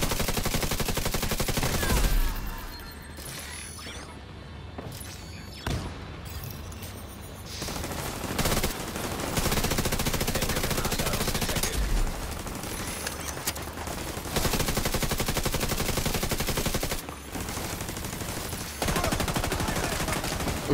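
Shooter video game gunfire rattles almost without pause, dense automatic bursts and fusillades loud and close throughout, with only brief gaps between volleys.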